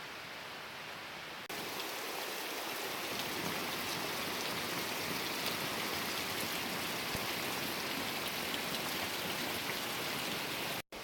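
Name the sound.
torrential downpour in the Amazon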